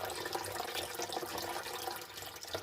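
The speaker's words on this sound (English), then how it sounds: "Get some water in." Water pours into an aquarium during a new aquascape build, a steady splashing, trickling fill that stays close and constant throughout.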